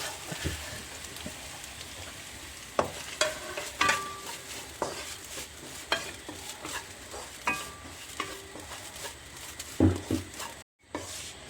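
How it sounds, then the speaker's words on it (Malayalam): Grated coconut dry-roasting in a pan for varutharacha injipuli, with a steady dry rustle and crackle and repeated scraping strokes as it is stirred; a few sharper clinks of the utensil against the pan, and no talking. "ഇനി നമുക്ക് ഇതിലേക്ക് ആവശ്യത്തിന് ഒരു രണ്ട് പിടി തേങ്ങ നന്നായി വറുത്തെടുക്കാം"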